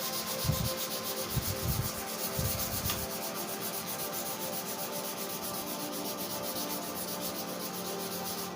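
Sandpaper rubs primer varnish on the wooden body of a Maison guitar being restored, making a soft, continuous scratchy rasp with a few dull low knocks near the start, fairly quiet and without speech.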